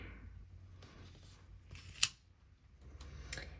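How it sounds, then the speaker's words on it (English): Scissors snip through paper for a planner layout, a few quiet close cuts with one sharp crisp snip standing out, against a faint low hum. "let's cut it to get this a nice flat edge"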